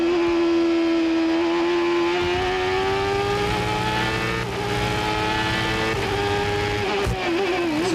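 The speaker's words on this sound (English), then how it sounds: "Listen to the throttle." CART race car engine in 1995 at Laguna Seca, loud and close throughout, a steady high whine rising gradually in pitch as the throttle holds, with a brief dip and stutter near the end, suffering oversteer.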